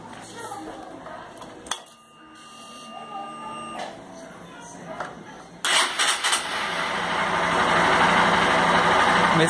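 A 2014 Honda Fan 150 motorcycle fitted with an exhaust diffuser: faint mechanical whirring, then the engine catches partway through and settles into a loud, steady, close-up idle.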